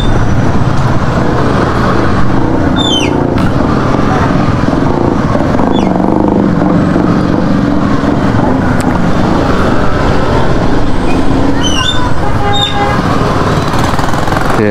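Steady, loud road traffic on a busy morning street, engine rumble and passing vehicles heard up close from a moving motorcycle, with faint high squeaks over the continuous drone.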